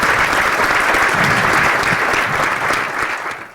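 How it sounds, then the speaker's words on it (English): Loud, dense audience applause fills a press conference room, many people clapping together close by in an even roar that fades slightly at the end. "She deserves a round of applause."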